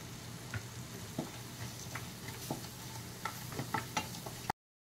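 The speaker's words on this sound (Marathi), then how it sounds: "त्याच्यानंतर हे काजू तळलेले आहेत ते घालत आहे।" Fried cashews stirred into a sizzling masala for hotel-style palak paneer, a steady close hiss broken by repeated spoon taps and scrapes that cut off abruptly at the end.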